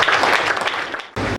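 Church congregation at a spiritual ceremony applauding, a dense burst of clapping from many hands that briefly drops and then resumes.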